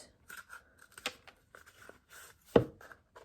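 Scissors cut across a cardboard toilet paper roll into strips, close crunchy snips at uneven intervals, with one louder crunching cut near the end.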